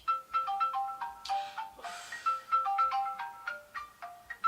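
A phone ringtone plays a bright, repeating melodic tone pattern, loud and close, with a brief noisy rustle partway through.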